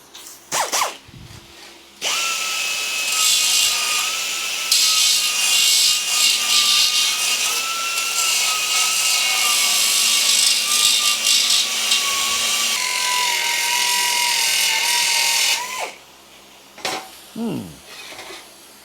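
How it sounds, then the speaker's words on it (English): Small belt grinder grinding the rolled edges of metal pieces: a loud, steady, high whirring grind lasting most of the stretch with a droning motor tone, preceded and followed by brief handling knocks. "then we'll get the little belt grinder and make them a bit neater"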